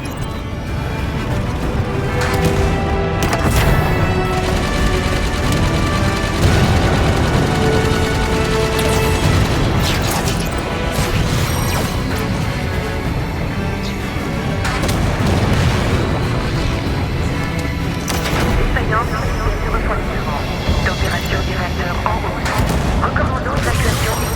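Gunfire and explosions in the video game Halo 5: Guardians, with dense, continuous shooting and booming blasts layered over game music for the whole stretch, loud and busy throughout.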